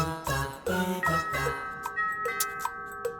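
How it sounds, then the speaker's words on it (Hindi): A house doorbell chiming repeatedly in a home, bright ringing tones layered over a steady background hum, sounding close and insistent. "घंटी बज रही है, देखो कौन है।"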